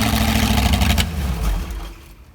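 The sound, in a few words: 60-year-old GM Corvette V8 engine running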